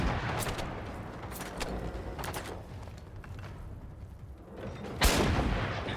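Gunshots from the Generation Zero shooter game, including US weapons, sound as several sharp reports over a steady rumbling background, with a louder, nearer blast near the end.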